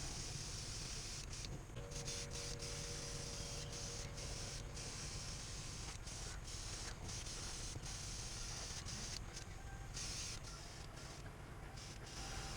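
Paint spray gun spraying orange paint, a steady close hiss running throughout with short interruptions where the trigger is released.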